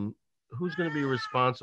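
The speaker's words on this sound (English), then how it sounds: "That's my cat, by the way." A house cat meows at home during a remote zoning meeting, a drawn-out complaining cry that mixes with a man's nearby speech.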